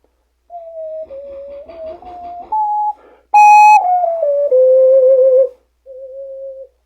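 An ocarina plays softly at low volume, a sequence of pure, breathy sustained notes stepping between pitches with brief gaps, one louder brighter note in the middle, heard alone up close.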